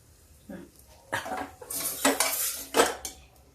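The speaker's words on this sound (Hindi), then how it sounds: "अभी हम इसकी भुनाई करेंगे, थोड़ा सा मसाला और भूनेंगे।" Metal utensil scrapes and clanks against a pan while spiced sem beans are stirred and roasted, several distinct knocking strokes close by over a quiet background.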